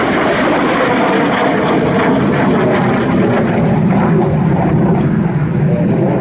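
American fighter jet flying at an air show, a loud continuous roar of engine noise with a few sharp transient bursts along the way.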